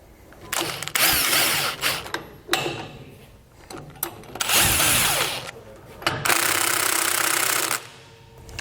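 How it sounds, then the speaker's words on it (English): A 23mm socket on a power tool driving down U-bolt nuts on a Dexter trailer axle of a 1917 Ford Model T, loud whirring impact bursts repeated several times with short gaps between them. "Now we'll come back with a 23mm socket and tighten these down evenly across both U-bolts"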